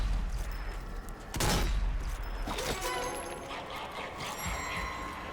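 Gunfire from the zombie shooter game Zombie Army 4, a sharp loud blast followed by a second crack and mechanical rattle against a dense noisy game background, with no talk.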